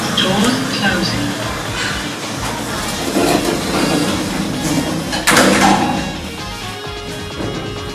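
Lift doors slide open and shut inside a block of flats, with a mechanical whirr and a thud near the middle, under recorded voice announcements.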